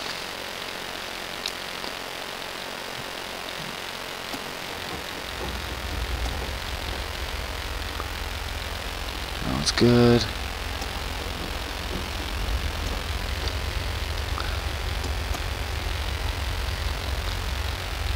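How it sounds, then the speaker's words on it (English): A small single-engine airplane's piston engine is started at an airfield near West Yellowstone and settles into a steady idling drone, low and constant, with a brief sputter at start-up and a short spoken remark nearby. "let me get this plane started back up"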